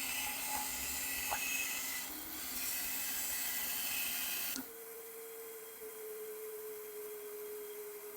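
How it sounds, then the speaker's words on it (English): A bandsaw rips a wooden arch for a homemade turkey box call, a steady broadband cutting roar that drops off sharply near the end to a quieter hum as the blade runs free. "let's go ahead and get that ripped down on the bandsaw"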